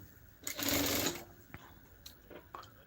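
A sewing machine stitches a shirt in a brief close whirring burst, followed by a few light taps and handling noises as the fabric is adjusted.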